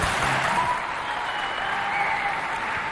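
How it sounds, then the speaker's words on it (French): Steady, loud audience applause from a crowd at a neighbourhood holiday event, continuous and even throughout the short stretch, with no voices above it. "Il faut applaudir systématiquement"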